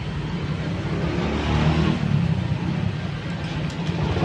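Engine of a Honda Scoopy scooter with a fault that makes it stall when throttled, running with a steady low hum that swells slightly as it is revved, close by with no talk.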